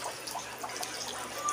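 Water running from a tap in a flood-hit home, a soft continuous trickle and splash, faint and steady with no talk.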